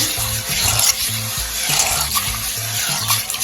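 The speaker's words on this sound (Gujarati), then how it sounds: "પાણી લેશું તેમાં મેથી એડ કરીશું અને આ રીતના તેને વોશ કરી લેશું" Dried fenugreek seeds are washed by hand in a bowl of water, producing a continuous close sloshing and swirling sound with no talk.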